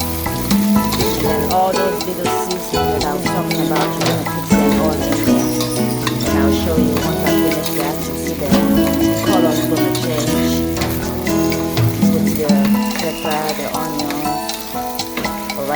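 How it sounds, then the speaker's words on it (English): Rice frying in a little warm oil in a pot while being stirred for one-pot jollof rice, giving a loud, steady sizzle with stirring scrapes that continues throughout over background music. "I'm adding the rice just to give it a little fry it a little bit, and mixing it while the oil is warming"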